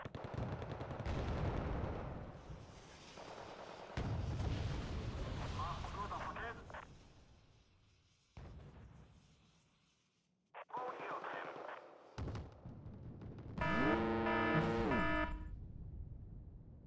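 Wargame: Red Dragon units exchange fire in bursts of battle noise, with gunfire, heavier booms and a long rumble. Someone talks over much of it, and a tonal effect sounds late in the clip.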